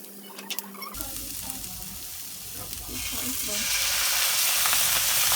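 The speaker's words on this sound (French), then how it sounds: "on vient mettre notre oignon, donc on est toujours à feu fort" Loud sizzling as onion hits a hot pan on high heat, a steady crackling fry that builds and grows brighter after an initial quiet moment.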